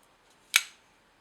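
A single short, dry scrape of a D2 steel knife blade, crisp and quick with no ringing tail, in otherwise quiet surroundings.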